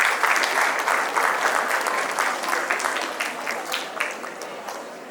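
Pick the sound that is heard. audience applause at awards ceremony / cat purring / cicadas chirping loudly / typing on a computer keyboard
audience applause at awards ceremony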